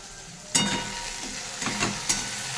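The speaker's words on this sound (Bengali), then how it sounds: "অল্প করে একটু হলুদ গুঁড়ো, নাড়াচাড়া দিয়ে নামিয়ে দিচ্ছি।" Fenugreek greens and brinjal, seasoned with salt, a little sugar and turmeric, sizzle steadily in a pan while a spatula stirs them in a few scraping strokes.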